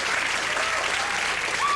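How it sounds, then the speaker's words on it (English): Studio audience applause on a 1996 talk show: dense, continuous clapping from a crowd at an even level for about two seconds. "You know, those applause signs really work."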